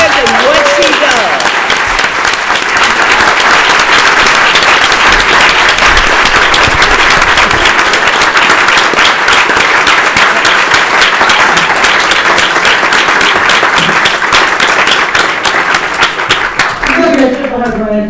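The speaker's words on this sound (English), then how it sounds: "I'm going to ask everybody to stand and applaud Asha" An audience at a talk on war and peace led by women stands and applauds, dense, loud and sustained clapping for nearly twenty seconds, mixed with crowd voices before it tapers off.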